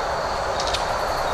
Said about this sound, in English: What you're hearing is the traffic from the Route 30 bridge over there.